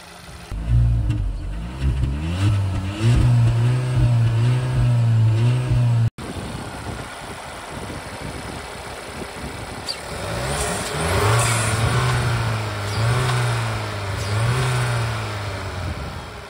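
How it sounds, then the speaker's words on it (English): A 2023 Audi Q3 Sportback 35 TFSI's 1.5-litre four-cylinder petrol engine revs repeatedly, rising and falling in pitch in several throttle blips, loud and close, with no talking. "One point five liter four cylinder petrol engine, 110 kilowatts, 150 horsepower."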